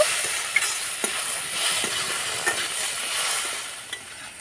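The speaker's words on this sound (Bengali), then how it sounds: "এই টমেটো কুচিটা দিয়ে একটু নাড়াচাড়া করব আর একটু ভেজে নেব" Chopped tomato and carrot stir-fry in a pan with a continuous bright sizzle, punctuated by occasional light scrapes and taps of a spatula; close and steady, with no speech.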